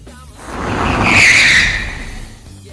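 A car without ABS brakes hard and its locked tires skid in one loud screech that builds and fades over about two seconds, heard alone with no talk.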